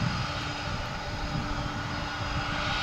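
A Boeing 737-800 jet arriving at DFW International Airport from Guadalajara, a loud steady engine roar with a broad rushing hiss and a faint sustained whine, continuous throughout.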